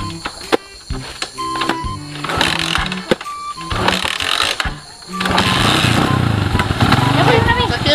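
An old motorcycle engine sputters and revs unevenly nearby, growing louder and rougher toward the end, with voices talking over it.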